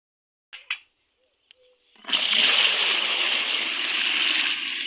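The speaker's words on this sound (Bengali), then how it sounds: "শসা ধোয়া হবে" Cucumbers being washed in water, a steady splashing and sloshing that begins after a couple of faint knocks and continues close and loud to the end.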